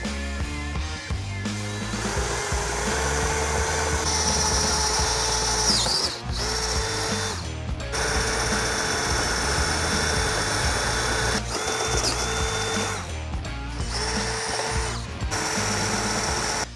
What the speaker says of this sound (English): Right now, we'll get drilling.